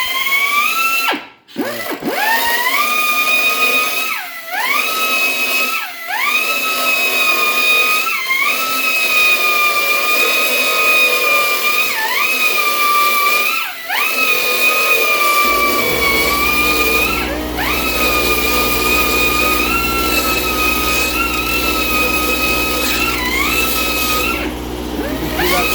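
A Tezoro 18-inch by half-inch belt sander, used as a finger grinder, grinds out spot welds with a loud, steady whine that dips briefly several times as the belt bites the metal, then drones on continuously.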